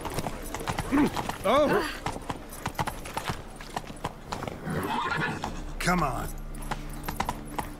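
Roach, the horse in The Witcher 3, gallops in rapid hoof beats and snorts while a man exclaims loudly over the game sounds.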